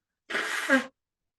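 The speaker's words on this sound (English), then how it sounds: "I'm blowing my nose in the middle of a health webinar." A single short, breathy nasal blast with a wet, rasping edge, close and fairly loud, ending abruptly in silence.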